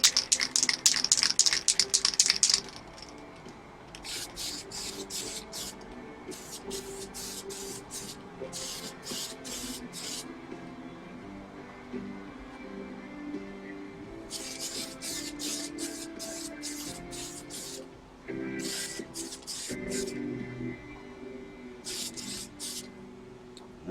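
Short hissing bursts from a spray can coating a 1/72 SR-71 Blackbird scale model, several pulses of spray with gaps between, close by over a low background hum.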